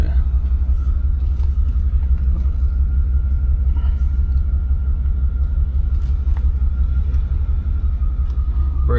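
A 1992 Cadillac Brougham pulls away on wet roads just after rain, its engine a steady, loud low rumble with constant road and cabin noise and no talking.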